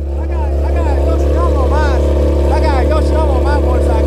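A loud motorcycle with an Akrapovic exhaust drones nearby at steady high revs, a dense constant roar that nearly drowns out the people talking over it.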